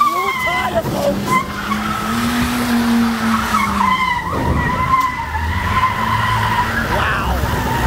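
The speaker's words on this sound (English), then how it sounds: "Oh, he blew a tire, folks." A Toyota Avalon skids on a blown tire, tires squealing in long wavering screeches over a roaring engine, loud and close throughout.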